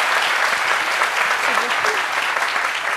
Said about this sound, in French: Je trouve qu'on peut applaudir ça.